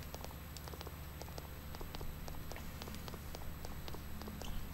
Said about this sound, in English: Too bad it's raining.